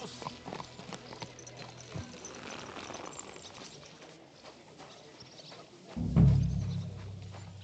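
Horse hooves clip-clop on the ground in the medieval game Kingdom Come: Deliverance 2, a steady moderate trot heard close with ambient game sound, ending in a louder low thump.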